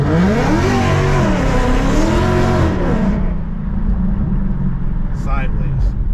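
A 2024 Mustang GT with a Whipple supercharger tune accelerating hard from a dig, loud rising engine wail climbing through gears, then dropping to a rumbling idle-like drone as a voice talks briefly.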